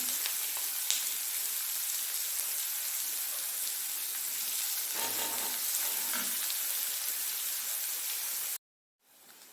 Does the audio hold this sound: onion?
yes